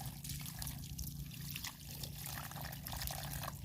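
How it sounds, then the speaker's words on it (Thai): Water is poured steadily into the large priming port of a 1-inch automatic water pump, a continuous close trickling and splashing that runs the whole time. "เราก็ใส่น้ำเข้าไป ให้เต็มนี้นะครับ ใส่น้ำเข้าช่องนี้นะครับ"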